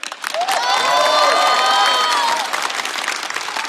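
A studio audience breaks into loud applause for actress Liu Xiaoqing, dense clapping swelling with a few cheers and whoops, then tapering slightly while still going strong.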